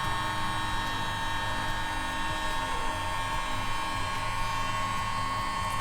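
Hair dryer blowing excess acrylic paint off a Dutch pour and open cup acrylic pour, a loud continuous whirring drone held steady throughout.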